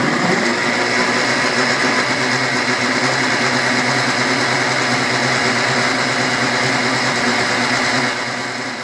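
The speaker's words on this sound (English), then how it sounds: "I can run the blender off of DC current" A blender running off DC current whirs loudly and steadily without a break, its motor droning with a high buzzing whine, tapering slightly right at the end.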